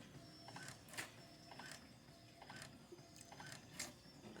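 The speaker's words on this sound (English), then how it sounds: "Right now I have it printing a two-sided copy of my resume." A Brother MFC-J497DW inkjet printer making a two-sided copy, with quiet repeating mechanical whirs and clicks from the print carriage at regular intervals.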